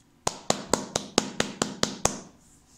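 Hand clapping in a bass-heavy recording, with nine steady, evenly timed claps that sound close and punchy with a full low end, ending in a brief quiet tail.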